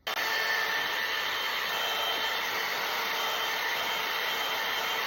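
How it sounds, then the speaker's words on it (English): A blow dryer blasts hot air onto a doll's wig, a loud, close, steady whooshing roar that starts abruptly and runs unbroken throughout. "I'm gonna spray hot air around this side to keep it out of my face"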